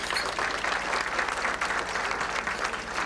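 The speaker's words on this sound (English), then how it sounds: "Applaud, please." Banquet audience at a sports hall of fame dinner clapping in response to a show-of-hands survey, a dense, loud, continuous round of applause with no voice over it.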